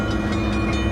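A freight train's railcars roll through a rail yard while crews make up trains carrying hazardous cargo, a steady loud rumble and rattle at close range that runs the whole time without a break.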